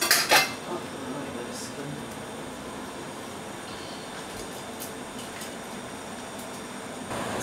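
Milk is stirred in a cooking pot in an Indian home kitchen, with light metallic scraping and clinks of a utensil against the pot over a steady low background.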